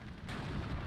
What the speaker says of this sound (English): Ooh, ammo explosion.